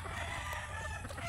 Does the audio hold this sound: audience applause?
no